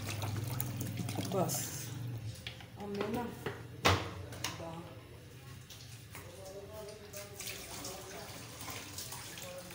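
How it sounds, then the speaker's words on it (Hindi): Water poured from a tap into a cooking pot for moong dal, a continuous splashing rush that fades under a woman's speech. "मैंने पानी डाल दिया"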